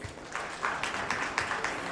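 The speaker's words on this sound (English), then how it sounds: "I think this needs a round of applause." An audience at an education awards ceremony breaks into a short round of applause, with a quieter start before clapping swells to a steady, moderately loud patter.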